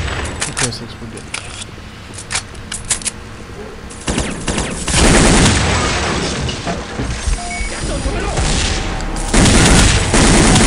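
Explosion and gunfire in Counter-Strike Condition Zero on a Japanese sniper mission: scattered sharp shots give way to a long, loud roaring blast with crackling bursts, while someone talks over parts of it.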